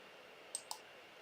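Two quick, crisp computer mouse clicks about a fifth of a second apart, heard close and faint over a quiet background hiss while a folder is opened on a computer during an online lesson.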